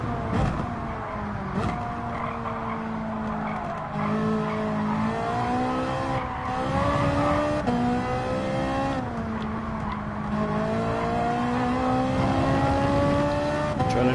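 A GT3 race car lapping Spa in Gran Turismo 7 is driven hard at the limit: a loud, close engine note climbs and drops through gear changes, with tyres squealing over it.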